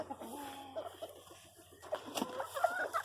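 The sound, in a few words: McClanahan gamefowl hen clucking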